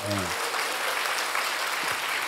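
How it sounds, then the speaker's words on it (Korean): Church congregation applauding during an elder's special lecture, a steady broadband wash of clapping that fills the whole moment after a short spoken phrase at the start. "박수 한번 드립시다"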